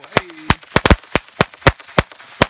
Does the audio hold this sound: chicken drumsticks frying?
no